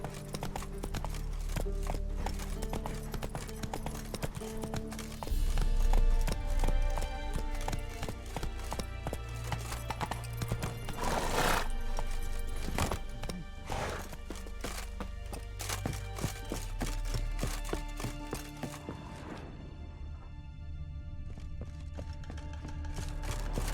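Roach, the horse in The Witcher 3: Wild Hunt, gallops with a steady, loud clip-clop of hooves that carries over game music throughout, with a brief whinny-like flourish near the middle.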